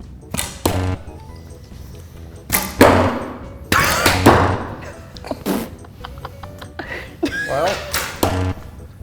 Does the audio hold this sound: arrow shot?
yes